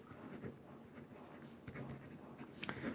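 Writing on paper during a geometry lesson: faint, close scratching strokes in short irregular runs, quiet and continuous with small pauses between marks.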